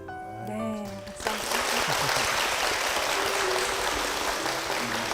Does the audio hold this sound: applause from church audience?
yes